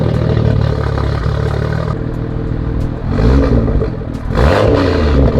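BMW F87 M2 engine, loud and close, with a steady idle hum that swells into two rising revs near the end, each climbing then falling back.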